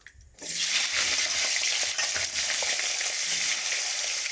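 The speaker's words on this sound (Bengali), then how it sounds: "আর আলুগুলো দিয়ে দেবো," Potatoes added to hot oil with black cumin seed tempering, a loud continuous sizzle with scraping stirring sounds, close by after a short quiet start.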